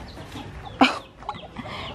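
A single close chicken cluck cuts through a backyard where feed is left out for the hens, with faint background noise around it and no talking.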